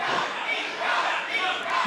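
Wrestling crowd at an indoor show roaring and cheering loudly in a continuous, dense wall of voices.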